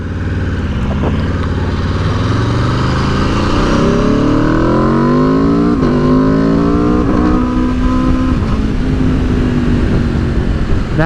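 A 2021 Aprilia RSV4 1100 motorcycle engine revving loudly and close during a missed gear shift, its pitch climbing in repeated rising sweeps with brief stumbles between, over heavy wind and road roar.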